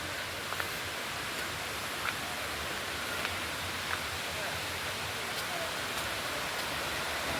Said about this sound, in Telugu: చూద్దాం ఎన్ఆర్పురం వాటర్ ఫాల్ ఎలా ఉందనేది.